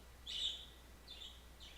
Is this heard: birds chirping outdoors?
yes